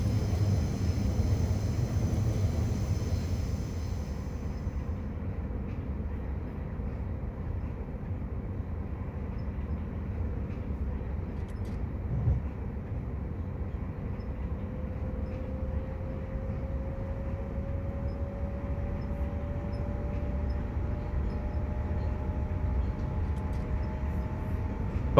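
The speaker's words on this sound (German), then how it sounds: "Schauen wir uns mal den Zug von außen an, wenn das möglich ist" A CityJetXpress 1 train (unit 6125) in Train Simulator runs toward Kufstein at dusk with a steady, even rolling rumble throughout, joined near the end by a faint rising tonal whine.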